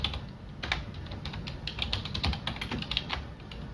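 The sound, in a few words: typing a location on a computer keyboard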